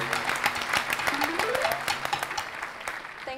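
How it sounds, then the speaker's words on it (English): Studio audience clapping for a guest on a talk show, a lively burst of applause with scattered whoops and a voice rising over it, moderately loud and fading slightly at the end. "Everyone give a round of applause for Charlie."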